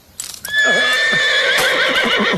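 A horse whinnies loudly and close by, a long shrill neigh with wavering pitch lasting nearly two seconds, with faint hoof noise at the start.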